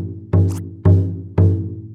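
Three deep, booming strikes on the center of a Chinese drum, spaced about half a second apart, each with a resonant low ring that sustains between hits.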